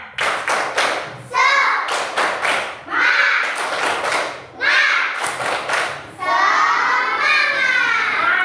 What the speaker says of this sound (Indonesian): Nah, ayo tepuk semangat